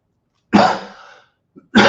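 A single loud, close cough from a tickly throat with a harsh burst, followed by a brief pause and the start of another cough.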